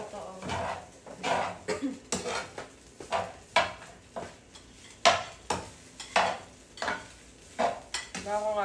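Fried rice being mixed in a pan: repeated scraping and clanking of a utensil against the pan in uneven strokes, close and fairly loud, with faint sizzling in between.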